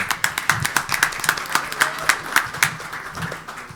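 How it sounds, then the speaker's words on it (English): A crowd at a school board meeting honouring teachers and spelling bee winners claps in a steady round of applause, close and lively, with hands striking in quick, even rhythm throughout. "give her a round of applause"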